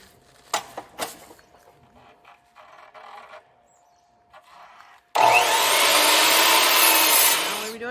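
A power tool drives screws to mount pallet wood pieces for a support brace, starting with a few short bursts and then settling into a loud, steady whir for the last three seconds, with no talking.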